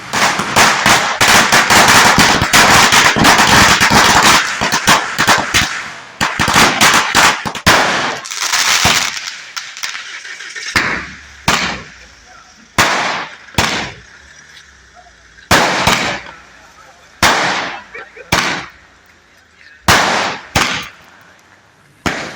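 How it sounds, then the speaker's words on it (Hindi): Firecrackers set off at night by celebrating supporters of politician Gyan Singh Chauhan crackle in a loud, dense rapid barrage, then thin out into separate sharp bangs spaced a second or two apart. "ज्ञान सिंह चौहान के समर्थकों ने अपनी खुशी का इजहार करते हुए जमकर आतिशबाजी की।"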